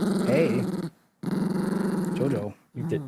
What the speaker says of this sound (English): So if I jostle her at all, she starts growling.